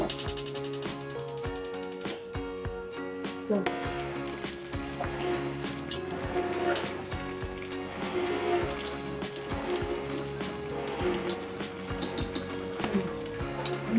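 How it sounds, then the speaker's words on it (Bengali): Beef tehari paste stirred and sizzling in a pan, a steady close crackle of frying with repeated scraping and clatter of a utensil against the pan throughout. "একটু নাড়াচাড়া করে দিলাম, পেস্টটা ভালো করে হবে।"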